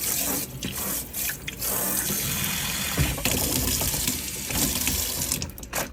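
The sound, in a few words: rinsing aquarium filter under sink tap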